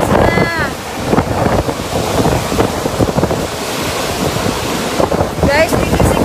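Typhoon Rolly's violent wind roaring and gusting continuously in Camarines Sur, Bicol, with a loud rushing, buffeting roar that batters the microphone throughout.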